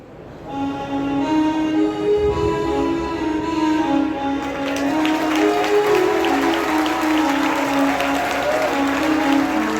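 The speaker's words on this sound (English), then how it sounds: "So once again, clap for him." Audience applause at a farewell ceremony for a priest, steady and loud for the full ten seconds, with some cheering and a sustained musical tone ringing underneath.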